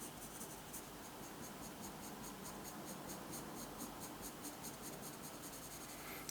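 Pencil shading on paper while drawing bird feathers, a steady dry scratching of graphite strokes repeating continuously at close range, with no voices.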